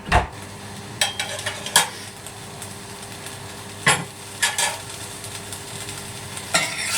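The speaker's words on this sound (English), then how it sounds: "It's time to turn the sausages over." Sausages sizzle in a frying pan with a steady hiss as they are turned over, with sharp clicks and scrapes of a utensil against the pan at irregular intervals.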